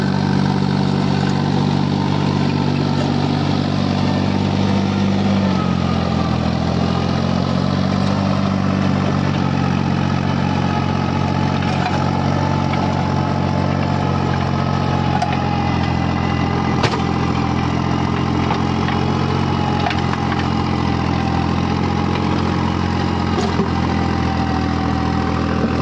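A tractor engine chugs steadily at low revs in low gear close by, a continuous heavy rumble with no talking.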